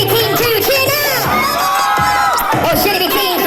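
An audience at a Just Dance game event cheers for Team 2, a loud, dense crowd of shouting and whooping voices that keeps going steadily with no break.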